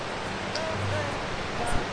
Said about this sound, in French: Vous avez les cascades comme ça qui coulent de la montagne.